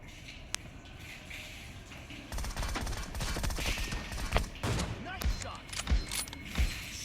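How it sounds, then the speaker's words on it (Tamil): Sniper rifle shots fired in a video game ring out as a few sharp, separated cracks over a busy bed of game noise and mechanical clatter, with the action growing denser and louder partway through. "நான் ஸ்னைப்பர் ட்ரை பண்ணுறேன் இப்போ."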